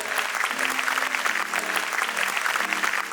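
An audience at a talk on mobile phone use applauds a welcomed guest speaker, steady close clapping from many hands filling the whole stretch, with a faint voice underneath.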